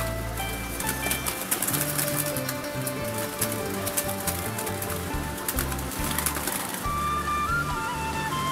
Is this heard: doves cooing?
yes